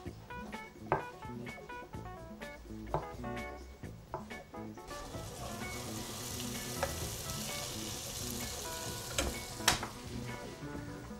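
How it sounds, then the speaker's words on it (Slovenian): Onion frying in a pan, a steady close sizzle that swells and thickens partway through, with scattered small clicks and scrapes of stirring and no talking. "Zdaj dam čebulico pražiti."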